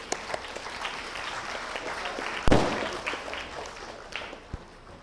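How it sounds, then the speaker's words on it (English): An audience at a software engineering conference plenary session claps, a thin, moderately quiet patter with a few louder individual claps and a sharp bump midway. "Can we have a great round of applause,"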